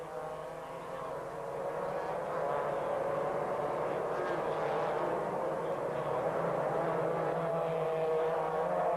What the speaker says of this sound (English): there is number 16, Tony Pond, already safely through Ferodo corner for the first of 10 laps and on his way